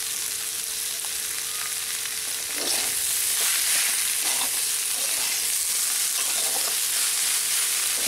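Potato stuffing for masala dosa cooking in a pan, giving a continuous hiss of frying with a few soft stirring scrapes, close and steady with no voices.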